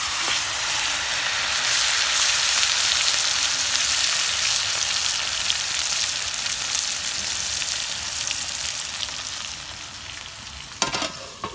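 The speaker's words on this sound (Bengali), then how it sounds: "এখন আমি লেগ পিসটা ভাইজা নিব" A chicken leg piece fries in hot mustard oil in a pan, giving a loud, steady hiss and sizzle throughout that eases slightly toward the end, broken by a brief clatter near the close.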